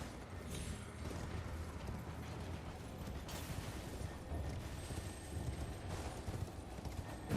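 Horse hooves clip-clopping at a gallop in the open-world fantasy game Elden Ring, a steady, dense rhythm of footfalls over constant game ambience, with a brief whoosh partway through.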